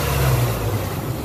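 The 4.3L engine of a 1995 Chevy Blazer is revved up in close range, a loud, rough engine note rising briefly then easing, with no speech.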